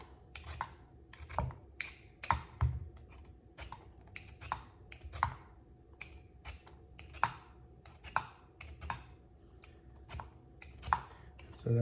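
A potato peeler scrapes the skin off a jicama in quick, dry, repeated strokes, close and fairly quiet, with an irregular rhythm of short rasping pulls and small knocks.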